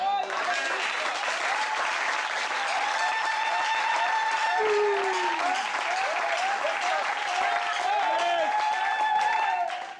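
Congregation in a church in Libreville, Gabon, applauding the Lord, sustained loud clapping from a crowd with voices and cheers mixed in.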